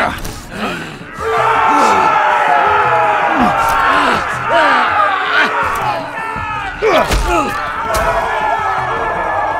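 Dense crowd clamor in a Telltale Game of Thrones video game arena scene, with loud overlapping yells, whoops and bellows sustained throughout, swelling after the first second and staying close and continuous.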